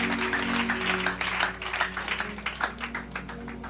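A crowd applauds at a religious gathering, giving dense, steady clapping that rises and falls in intensity for a few seconds.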